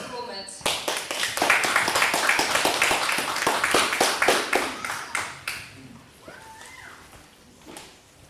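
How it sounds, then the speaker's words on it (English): An audience claps for actors returning to the stage at a speaking club event, dense sustained applause with a steady patter that swells, holds, then thins out into scattered claps and fades. "So if we want to give a round of applause to the actors to come back up for the second performance."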